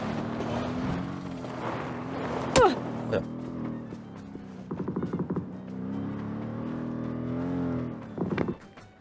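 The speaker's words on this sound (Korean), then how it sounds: "야 차소리" A car engine drones and revs in a battle royale video game, a rising and falling hum heard beneath players talking over voice chat, with sharp clicks and short bursts of game effects.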